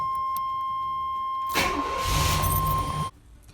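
A car engine starts after a fuel line repair: a steady electrical whine gives way to a loud cranking catch that runs about a second and a half before cutting off abruptly.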